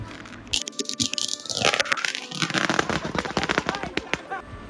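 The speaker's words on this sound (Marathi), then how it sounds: "सन्यानं फटाक्याची माळच हातात घेतलेली." A string of firecrackers bursts at a boys' birthday celebration in Karad, a rapid run of sharp cracks and pops that starts after a brief pause, then rattles on loudly and continuously, with voices heard amid the crackling.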